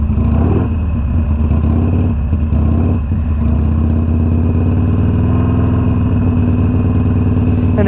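A Harley-Davidson Iron 883 motorcycle engine runs close by, a loud, steady low rumble with a few brief blips of throttle early on before settling into an even drone.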